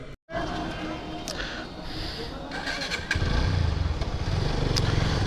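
A motorcycle is wheeled out and started: a brief cutout, then rustling and handling, and from about three seconds a steady low engine idle chugs loudly and close for the rest of the clip.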